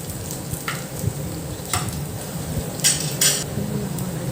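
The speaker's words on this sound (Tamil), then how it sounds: "இப்போ வெங்காயம் நல்லா வதங்கிருச்சு" Steady sizzling of onions frying in a hot pan, with a spoon scraping and clinking against the metal now and then as they're stirred.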